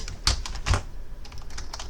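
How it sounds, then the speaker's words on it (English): Fingers typing on a computer keyboard, a few close, clicky keystrokes, two of them louder, then lighter taps at a steady pace, with no voice. "I'm going to type easy"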